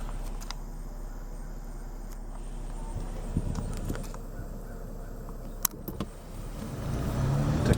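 A car drives slowly through the hilltop residential streets of Patterson Heights, Pennsylvania, its low steady engine rumble running throughout with a few brief knocks and a louder swell near the end.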